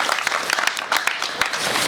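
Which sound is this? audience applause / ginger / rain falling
audience applause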